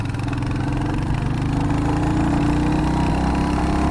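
A Royal Enfield Hunter 350 motorcycle engine pulls in fourth gear at low speed with the throttle opened, a loud, steady thumping drone that rises slightly in pitch.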